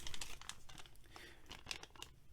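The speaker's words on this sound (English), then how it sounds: "Knife comes in a little plastic bag." Thin plastic packaging bag for a Kizer Laconico Gemini pocket knife crinkles and rustles in quick close bursts, steady handling noise with a few sharper crackles.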